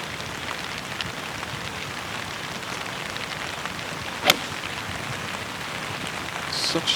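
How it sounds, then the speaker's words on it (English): Heavy rain pouring down on a golf course during an amateur championship round, a dense steady hiss of drops with one sharp brief crack partway through and slight swelling at the end. "The rain starts to belt down again"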